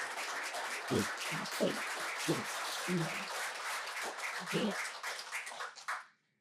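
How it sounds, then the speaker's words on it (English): Audience applause at a charity check presentation, sustained dense clapping with a few voices mixed in, fading out at the end. "Can we have another round of applause?"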